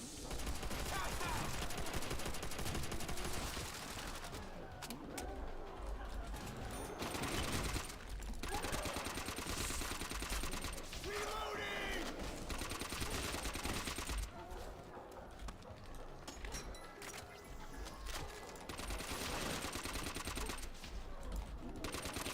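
Sustained rapid gunfire from Call of Duty: World at War Zombies, dense overlapping bursts and shots running almost continuously, loud and close, with brief dips in intensity around the middle and later stretches.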